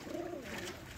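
A pigeon coos once, a close, soft rolling call lasting about a second, with faint room noise around it.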